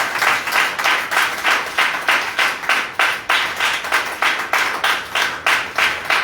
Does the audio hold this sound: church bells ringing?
no